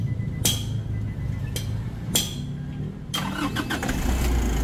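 Engine of a Nissan NV350 van cranking and catching several times in short bursts, a nearby mechanical rattle with a low idle rumble underneath, close and fairly loud, no talking.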